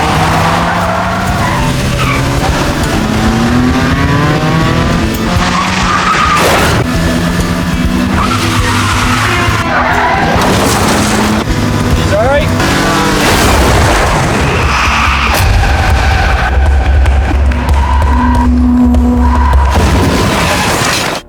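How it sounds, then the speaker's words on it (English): Racing cars skid and crash in a film scene, with loud sustained engine roar and tire screech throughout, heavy impacts and booms near the end over a dense, busy mix. "The race ends in a car crash."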